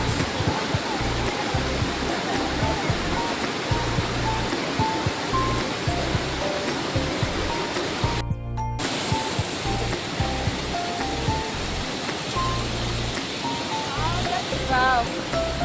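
Waterfall water in Meghalaya pours in a steady, loud broadband rush throughout, with a brief near-silent break midway and faint voices now and then beneath the roar.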